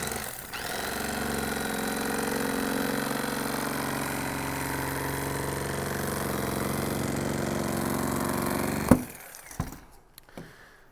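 A motorized blade cuts steadily through wheelchair cushion foam, a continuous droning whir that holds level for about nine seconds before the motor cuts off abruptly, leaving a few faint knocks and handling sounds.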